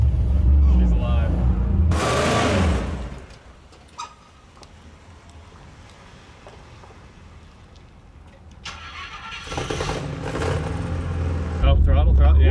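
An old Rolls-Royce or Bentley hybrid engine revs loudly in bursts near the start and end, with a quieter idle between, close by and partly under talk.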